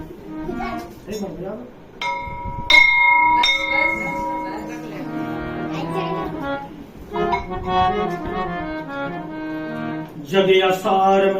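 A hand bell rings repeatedly during a Hindu prayer, its bright metallic tones sounding over chanting and group singing, with more clinks and rings throughout.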